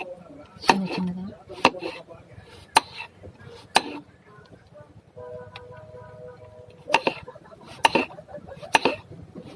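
A knife chops dosakai cucumber into small pieces on a board, giving sharp, separate knocks in irregular bursts, close and fairly loud, with a quieter stretch between them.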